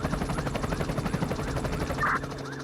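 Helicopter in flight over a Brazilian police search of a wooded area, its steady rotor chop pulsing continuously at close range and fairly loud, with no talking.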